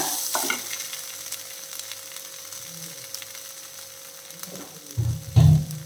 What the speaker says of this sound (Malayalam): നല്ല രീതിയിൽ ഇളക്കി കൊടുക്കാം